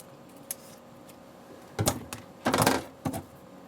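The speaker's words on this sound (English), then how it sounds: "just to make this easier to fill, I'm going to trim off that rough edge." Scissors trimming the rough edge off a plastic shaker ornament, a few close crisp snips and crinkly cutting bursts, clustered near the end, with no talking.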